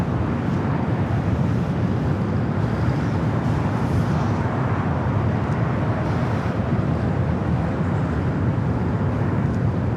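Steady, loud low rumble of a Qantas airliner arriving at LAX on the south side, a continuous roar with wind buffeting and no speech.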